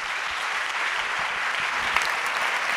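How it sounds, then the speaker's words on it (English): A full audience at a university school of politics and global affairs launch event gives steady, even applause for Josep Borrell, Vice President of the European Commission, as a dense wash of clapping with no clear pauses. "Please join us with a big round of applause for Mr."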